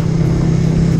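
A motorcycle engine held at fairly high throttle while climbing uphill, a steady loud drone with a strong low hum running continuously and no pauses.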